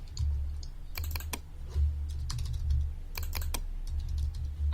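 Keys clack on a computer keyboard in quick bursts of taps with short pauses between, close and moderately loud over a low background hum.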